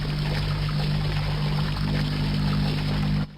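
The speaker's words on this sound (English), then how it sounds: "the machines have actually kicked in again upstairs to provide power" Machines running upstairs in a modded Minecraft Technic Pack world give off a steady, droning mechanical hum with a constant low tone, holding evenly for about three seconds before cutting out abruptly.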